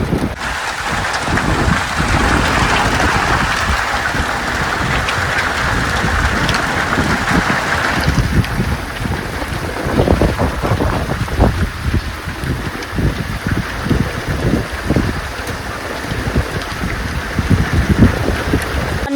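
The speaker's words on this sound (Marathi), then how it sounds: "आणि गाराचा पाऊस आहे मित्रांनो गाराचा बघा." Heavy rain with hail pounds down near a farm shed, a loud, continuous wash of noise with dense, sharp impacts that grow more pronounced and gusty midway, with no voices.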